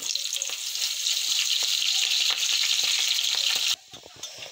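Spices such as bay leaf and cumin crackle in hot oil, a loud bright close sizzle that holds steady for several seconds, then drops off sharply to a quieter hiss near the end.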